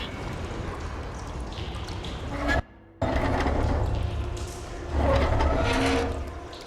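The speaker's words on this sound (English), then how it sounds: "Aloy, I can hear water in the room again." Water flowing and trickling inside a room in the video game Horizon Forbidden West, a steady broadband rush that cuts out briefly near the middle, then returns and swells louder toward the end.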